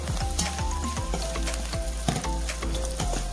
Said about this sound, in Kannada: ಈಗ ಈರುಳ್ಳಿ ಚೆನ್ನಾಗಿ ಫ್ರೈ ಆಗಲಿ.